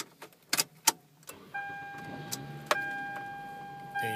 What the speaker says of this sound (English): let's go ahead and start this vehicle up